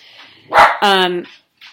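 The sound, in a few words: dogs barking after thunder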